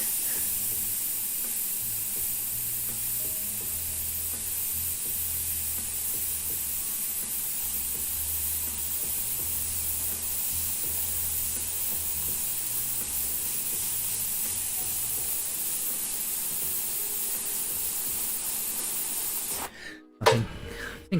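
Steady airbrush hiss spraying paint onto a guitar body, a continuous close airy spray holding level throughout before cutting out near the end with a few brief knocks.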